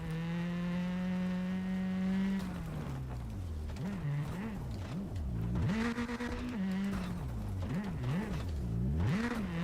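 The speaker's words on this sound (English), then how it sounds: "the engine just sounds better" Rally car engine in the racing game WRC 10, a steady drone that drops and then surges and falls in rapid repeated revs through gear changes, loud and continuous.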